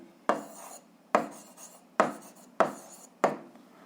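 A pen writes out a rectangle's length and width for a 7th-grade algebra exercise, in five quick, crisp strokes at a regular pace, close and alone.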